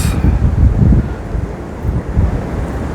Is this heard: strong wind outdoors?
yes